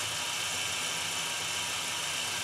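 2000 BMW E46 318i with the M43 engine idling, a steady, close whirring drone with an even rumble and no change in level throughout, no speech over it.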